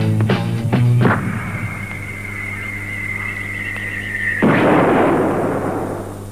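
A cannon firing sound effect: a sustained, whistling tone builds and then gives way to a heavy, booming burst that fades into a rumbling tail.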